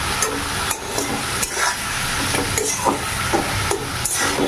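Spice masala being stir-fried over a raised flame for a fish curry, a close crackling sizzle broken by repeated scraping and tapping strokes of the spatula against the pan.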